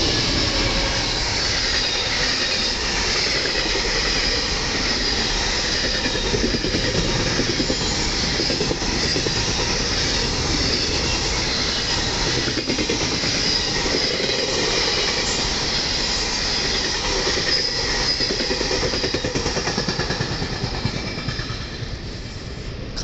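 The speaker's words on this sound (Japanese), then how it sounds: "列車がやってきました。" A Japanese Shinkaisoku rapid train rolls into a station loud and close, wheels grinding and squealing on the rails in a long continuous roar.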